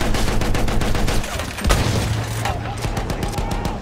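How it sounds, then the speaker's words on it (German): Rifle and gunfire in the video game Battlefield 1, a dense stream of shots and blasts over constant battle noise, with one heavy boom partway through and voices talking throughout. "warum schießen die auf uns mit Gewehren?"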